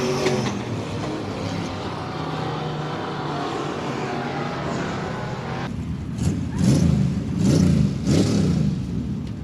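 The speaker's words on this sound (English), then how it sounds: "you always give it extra gas in the winter circle just so everybody hears your engine" A modified race car engine at Heart O' Texas Speedway during a Touring Outlaw Modified Series event drones loudly and steadily, then rises into several sharp revving bursts near the end.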